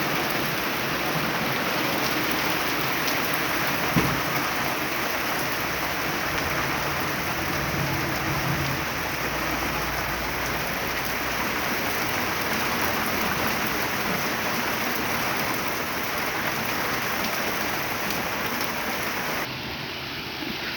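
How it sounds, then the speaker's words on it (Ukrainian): Steady, dense downpour of heavy rain hissing without pause, loud and close, with a faint low rumble underneath and no voices. "подивіться, який дощ лиє."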